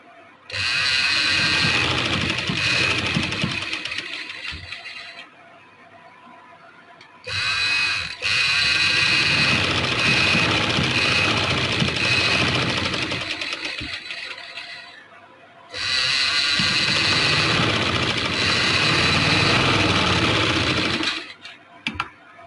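A sewing machine stitches lace along a fabric edge in three long, steady bursts of fast whirring, close and loud, separated by short pauses in which someone speaks.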